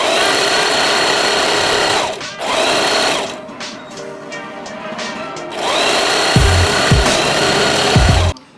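A sewing machine stitches satin-and-fur leg warmers in loud, close bursts. It runs in one long run, then a short run, pauses, and runs again in a final long burst with a few thumps near the end.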